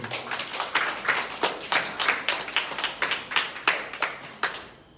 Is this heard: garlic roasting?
no